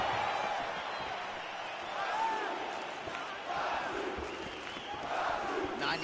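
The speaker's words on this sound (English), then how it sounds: "Crowd chanting for Brazil." Game crowd in UFC 4 chants for Brazil during a fight night bout with Anderson Silva, a steady wash of massed voices with rising swells of chanting throughout.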